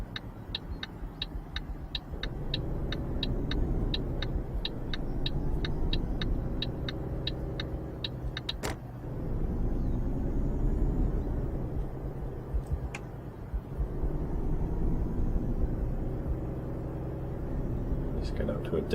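Steady engine rumble of a Volvo FH 2012 truck heading onto the motorway in Euro Truck Simulator 2, with a ticking indicator early on and someone talking over the drone throughout.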